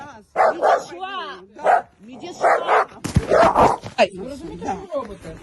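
A dog barks several times in sharp, loud bursts, mixed with agitated voices talking and shouting close by.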